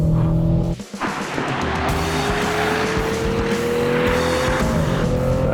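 A loud race car engine roars close by with a rising whine, joined by screeching tire squeal throughout.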